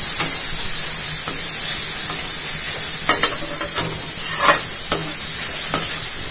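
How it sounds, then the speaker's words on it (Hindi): Grated carrots for gajar halwa sautéed on high flame, a steady loud sizzle with repeated scraping stirs of the spoon across the pan, close up and without speech. "तेज गैस पे मैं इसे 5 मिनट भूनूंगी। देखिए गाजर भूनूंगी।"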